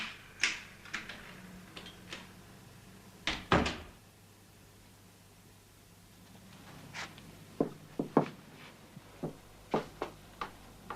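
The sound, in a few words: door being opened with a credit card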